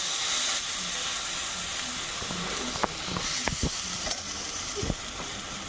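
Mustard, cumin and dried chili paste hitting hot oil already used for frying fish and tempered with bay leaf and nigella, giving a steady broad sizzle with a few sharp pops and spatters.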